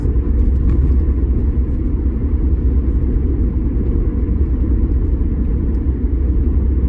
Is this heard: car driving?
yes